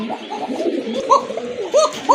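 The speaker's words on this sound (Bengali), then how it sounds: "মাশাআল্লাহ কবুতরের ডাক দেখেন" A male cocker pigeon coos in a series of soft, rounded, throaty calls, close by and fairly loud, repeating in short bursts with a faint background hum.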